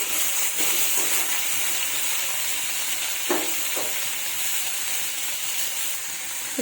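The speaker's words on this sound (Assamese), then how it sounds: "লগতে মই দি দিছোঁ ভাতকেৰেলাখিনি ইয়াত ধুনীয়াকৈ লৰাই দিব লাগিব" Bitter gourd (bhat karela) fries in a pan of hot oil with a steady, close sizzle and hiss, and a spoon stirs it with occasional scraping clinks.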